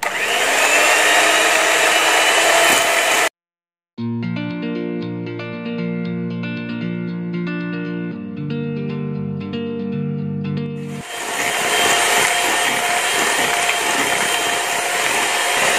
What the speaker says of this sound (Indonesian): Kita kocok juga bersama dengan mentega dan gulanya tadi